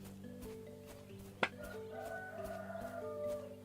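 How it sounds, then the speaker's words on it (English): A rooster crowing in the video game Of The Lilies, a drawn-out crow and clucks at moderate distance over steady background music, with one sharp click partway through. "I'm gonna beat down that rooster if you don't shut up."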